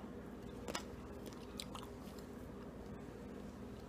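Someone bites into and chews a piece of roasted pumpkin, a close, wet crunching and mastication for a few seconds, with no talking.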